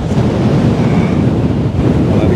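Storm waves and strong wind at Anapa beach on the Black Sea make a dense, loud, continuous roar of surf and buffeting wind, with no break through the whole stretch.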